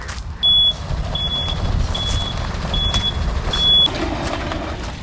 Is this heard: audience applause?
no